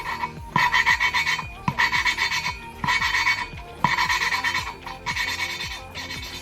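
A harsh, sandy grinding rasp repeats in rhythmic back-and-forth strokes, about two per second, close and steady, with brief gaps between bursts, as engine valves are lapped on a Toyota Supra Turbo.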